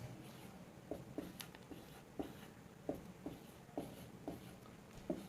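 Pen or marker strokes on a board or page during a Class 12 applied mathematics lesson on partnership, a series of short light taps and scratches spaced across a quiet room with faint background hiss.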